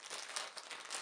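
Plastic packaging around a Spider-Man costume being handled, giving a steady, close crinkling and rustling that runs continuously for about a second with small bursts of louder crackle.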